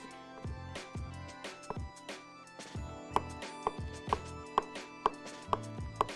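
A kitchen knife halves food on a cutting board while a falafel pitta is being made. Crisp, close chopping strikes come at a fairly steady rhythm, with no talk.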